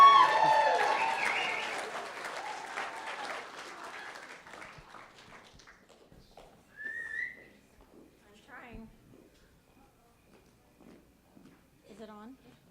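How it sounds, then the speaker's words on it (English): Audience applause and cheering for Patty as she comes up to give the last toast at Diem and Cory's wedding reception, loud at first and fading over several seconds, with a whistle and scattered voices afterward. "Let's get a big round of applause for Patty."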